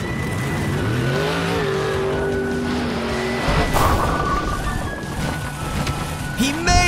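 A toy-scale monster truck, number 16, races along and launches off a jump, with a steady whining motor, a rising pitch sweep and a sharp clatter near the end, loud and close.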